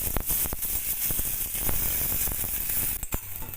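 Soaked Gobindobhog rice frying in ghee in a pan, a steady close sizzle with scraping stir strokes and occasional crackles, with no talking.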